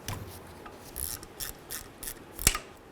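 Rhythmic ratcheting clicks of a wrench loosening a driveshaft bolt under a 1994-2004 Chevy S-10, close and repetitive with scraping strokes and a sharper metallic snap near the end.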